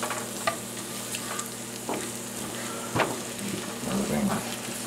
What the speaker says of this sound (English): I'll just get that started cooking before I add the mushrooms.